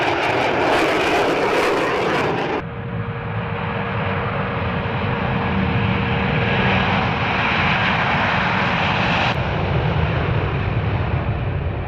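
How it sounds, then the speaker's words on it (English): Jet engines of British military warplanes roar overhead in a sustained loud drone, with an abrupt change in tone partway through. No voices are heard. "Here you can see British warplanes shooting a drone over Jordan."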